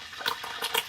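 Water drops hitting hot homemade ghee, giving a few quick crackling sizzle bursts in under a second, close and fairly loud with no talking.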